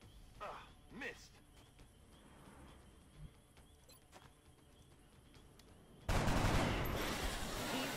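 Gunfire in the X-COM: Enemy Within strategy game, with a few sharp shots early on over a low game ambience, then a loud sustained burst of noise near the end.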